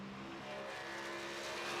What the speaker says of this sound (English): Now we see Scruggs' car working his way off of turn number 4.